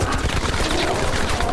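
Sustained gunfire from a scene in the film X-Men: First Class, a dense rapid fusillade of overlapping shots filling the whole moment at steady loudness.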